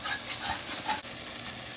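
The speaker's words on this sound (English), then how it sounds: "And we want to be sure to scrape it all up." Utensil scraping a hot pan while apple cider vinegar deglazes the browned bits for birria, a steady hiss of sizzling under repeated scraping strokes, close and continuous with no talk.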